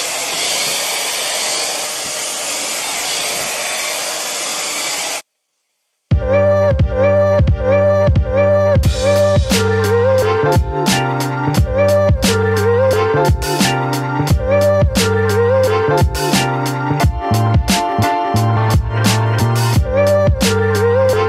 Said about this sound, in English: So let's just get right into the blow dry.